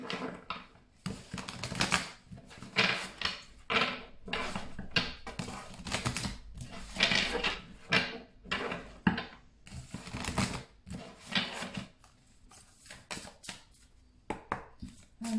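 Tarot cards are shuffled steadily for about fifteen seconds, a close, dense run of quick riffling and slapping bursts with no talking.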